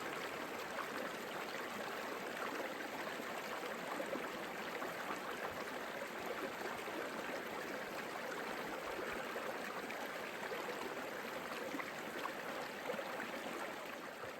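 Continuous rushing of a nearby stream in the Cairngorms National Park, an even broadband wash of flowing water that stays constant throughout with no voices.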